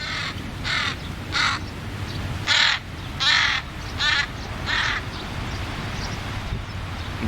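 A crow caws repeatedly outdoors, about eight harsh calls spaced roughly half a second to a second apart, moderately near over steady background noise.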